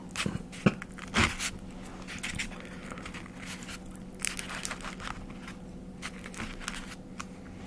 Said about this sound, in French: On pourra pas dire qu'il est pas croustillant mon pain.